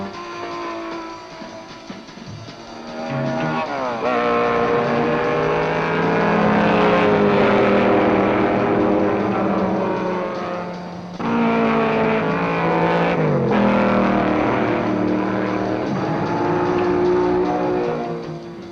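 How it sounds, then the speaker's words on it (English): Race car engines, including a Ford Cortina, roar and whine continuously at Sebring in 1964, shifting pitch as they accelerate and pass, loud and close with no talking. "car 59 takes number 1 turn in the outfield and leads Dan Gurney"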